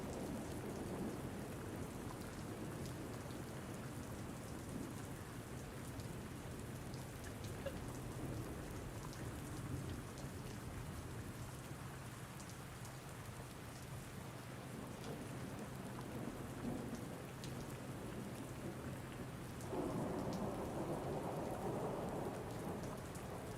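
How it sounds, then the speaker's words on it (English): Steady heavy rain pours down in Farming Simulator 19 with low rumbling thunder rolling beneath it, and the downpour grows louder and denser toward the end. "it went from quiet rain to hard rain and thunderstorms"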